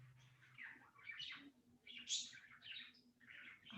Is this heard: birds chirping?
yes